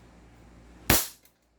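One sharp, loud crack from a 2011 5.1 Trex airsoft pistol fired through a chronograph. The snap decays quickly into silence, with no talk around it.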